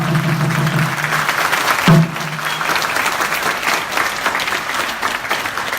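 Audience applause at a union general strike rally at the KBS broadcaster, a dense burst of many hands clapping that fills the whole stretch, with a brief voice over it near the start.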